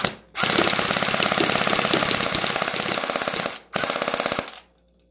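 An electric-converted Gunstorm Uzi airsoft gun fires BBs on full-auto in two loud, close, rapid bursts, a long burst then a short one, with an abrupt stop between them.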